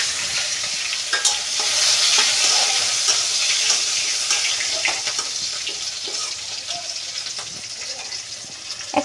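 Crushed garlic and dried red chili fry in hot oil for a dal with bottle gourd greens, giving a steady, loud sizzle with scattered stirring scrapes and clinks throughout, with no talking.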